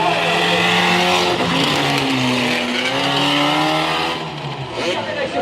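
A stunt car in a motor show accelerates hard at full power, its engine a loud sustained roar rising and falling in pitch with hints of tire squeal, while a voice talks over it.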